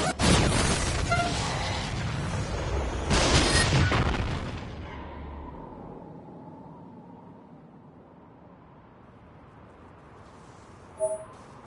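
Heavy booming blasts of a close-range weapon firing at maximum output in NieR:Automata, loud bursts over the first four seconds, then a fading rumbling tail and a faint pop near the end.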